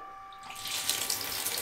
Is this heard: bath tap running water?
yes